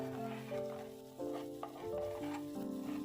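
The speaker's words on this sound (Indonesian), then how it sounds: "langsung aja kita tumis bumbunya" A ground spice paste is sautéed and stirred in a pan, a soft, quiet sizzle with a tonal melody playing alongside it.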